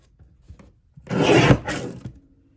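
Card stock being trimmed for a card kit makes a single short rasping cut, a close scraping swipe of about a second in an otherwise quiet room.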